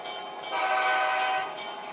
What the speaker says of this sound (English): We're now moving the train into position